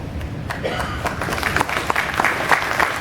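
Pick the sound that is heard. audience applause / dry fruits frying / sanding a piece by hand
audience applause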